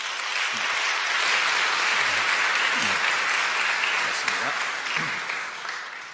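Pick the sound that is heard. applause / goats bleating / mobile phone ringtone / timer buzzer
applause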